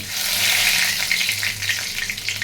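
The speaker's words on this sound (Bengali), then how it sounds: "তেল গরম হয়ে গেছে, আমি এখন" Ground cumin crackles and sizzles as it lands in hot oil, a loud, continuous frying hiss with brief stirring scrapes and no talking.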